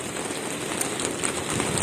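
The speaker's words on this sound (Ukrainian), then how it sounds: "тут розпочався дощ" Steady rain falling outdoors, a continuous dense hiss of drops pattering on surfaces, moderately loud and even throughout with no voices.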